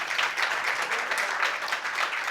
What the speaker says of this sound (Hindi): सच में अच्छा लगा तो जरा ताली बजाओ